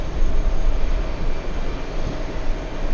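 Lufthansa 401 airliner taking off from JFK runway 13 right, a loud broadband rumbling roar with heavy low-end jet thunder that stays steady across the moment, no talk.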